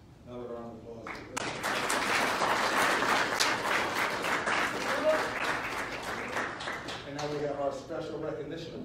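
Audience applause at an Army JROTC military awards ceremony, a sustained round of many hands clapping that swells after a brief spoken lead-in, with a voice talking again at the end.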